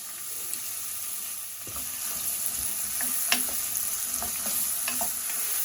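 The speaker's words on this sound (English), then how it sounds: "Okay, that's come to temperature, so in goes the onions" Onions fry in about two tablespoons of hot olive oil in a pot, giving a steady moderate sizzle with scattered crackles and light stirring scrapes, no talking.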